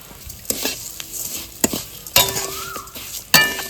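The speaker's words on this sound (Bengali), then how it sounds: "এখন সিমুইটা একটু ভেজে নেব" Vermicelli (semai) fries in a pan, a steady sizzle under a spatula stirring with sharp metallic scrapes and clanks against the pan, close and fairly loud, with no voices.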